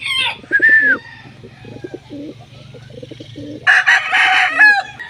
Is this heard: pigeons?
yes